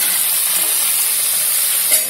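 Cashew chutney ingredients with amchur powder, raisins and jaggery roasting in a pan, a continuous close sizzling hiss with a faint stirring scrape near the end.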